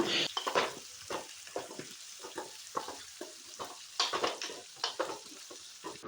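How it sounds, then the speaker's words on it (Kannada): Cashews and raisins fry in a pan, giving a steady crackling sizzle with repeated scraping stir strokes, close and fairly loud, with no talking. "ಬಾದಾಮಿ ದ್ರಾಕ್ಷಿ ಗೋಡಂಬಿ ಏನೇನು ಡ್ರೈ ಫ್ರೂಟ್ಸ್ ಬೇಕಲ್ಲ ಅವನ್ನೆಲ್ಲ ಹಾಕ್ಕೊಂಡು ಹುರ್ಕೊಂಡೆ"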